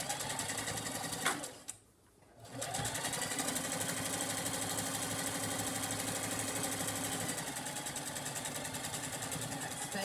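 A sewing machine stitches a cotton fabric surgical mask, a loud close rapid mechanical chatter that stops briefly near the start, then runs steadily to the end.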